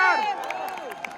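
A college audience gives a few sharp claps and cheers under a loud, sustained voice, with the claps landing as brief separate bursts.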